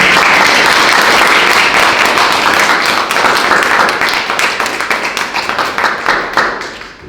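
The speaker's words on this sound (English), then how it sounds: "A round of applause again." Loud audience applause at a book launch event, a dense roar of clapping that gradually thins into scattered individual claps before fading out.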